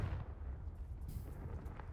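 Confringo blasting spell detonating in Hogwarts Legacy: a deep, rumbling explosion with heavy low-end roar that sustains for about two seconds at steady moderate loudness.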